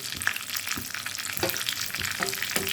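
Tempering spices fry in hot oil with a dense, close sizzle, broken by a few louder bursts as the pan is stirred and dried red chillies go in; no one talks.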